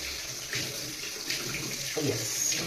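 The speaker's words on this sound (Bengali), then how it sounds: "এবার আমি হাতে একটু করে গরম জল নিয়ে নেবো" Warm water runs from a tap into a sink at a steady, close wash with a few brief splashes, as for washing hands before rubbing a homemade face treatment.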